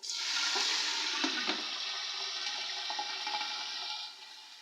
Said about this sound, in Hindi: अब मैं थोड़ा सा इसमें पानी डालूंगी,